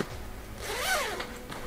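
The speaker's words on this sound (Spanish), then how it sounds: "con su cremallera" A zipper on a taffeta and linen shopping-size handbag is pulled in one quick, close, rasping stroke over a quiet room background.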